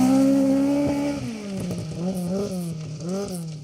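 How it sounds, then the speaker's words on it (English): A Ford Escort Mark II rally car driving past on a rally special stage, its loud engine note holding steady and then dropping in pitch as it goes by, with a few rough, wavering revs after it passes. "Ryan Evans and David Evans coming past us there in the Escort Mark II."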